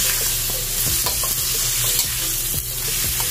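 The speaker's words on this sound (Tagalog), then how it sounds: "mix lang natin maigi sa ating ginisa panggisa na ating sibuyas, bawang at saka yung ating kamatis" Chopped onion, garlic and tomato sautéing in a pan for a chayote and chicken dish, a steady loud sizzle with repeated scraping taps of a spoon stirring, close up and with no talk.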